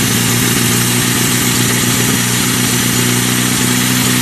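An old engine with a dirty carburetor runs with the choke on near an old barn, a loud, continuous close-up drone with a steady low throb throughout.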